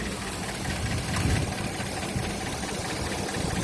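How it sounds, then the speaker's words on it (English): A 2004 Chevy Tahoe LT with a worn engine idles steadily, its constant low motor rumble carrying a light mechanical tapping throughout, close and fairly loud with no voices. "you can hear the motor. Motor's tapping away."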